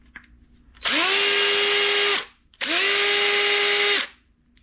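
DeWalt 1/4 inch impact driver running freely after a brush repair, two loud close whines that each spin up quickly, hold about 1.3 seconds, and stop, separated by a short pause.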